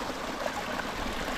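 Ice-cold water in a mountain stream on a Scafell Pike hike rushes and trickles in a steady, dense wash. It is close and continuous with no voices.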